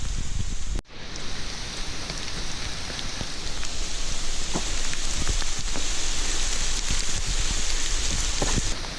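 Steady rain pours down close by on a Tennessee hiking trail, a dense continuous hiss with scattered louder drops pattering on surfaces.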